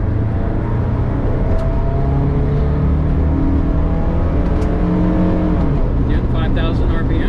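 Volkswagen Vanagon with a swapped Honda K24A engine revving while driving, the engine note rising and holding steady from inside the cabin, with a person talking over it.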